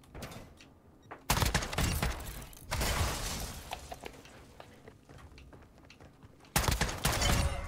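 A gold sniper rifle with a thermal scope fires in an online shooter game, giving three loud, sharp blasts with noisy, reverberant tails, separated by quieter stretches of game ambience.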